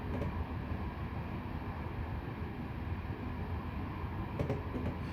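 Aerotrain passenger train running in Train Simulator, a steady low rumble of rolling wheels and motor noise, continuous and fairly quiet.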